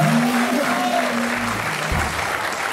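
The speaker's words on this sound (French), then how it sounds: "Je crois qu'on peut l'applaudir." Studio audience of a French late-night talk show applauding a guest, a dense steady burst of clapping with a voice briefly heard over it.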